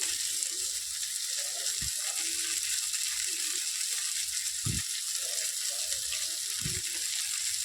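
Steady bright sizzling of mushrooms frying in a pan, continuous throughout, with a few soft low thumps and clinks of utensils now and then.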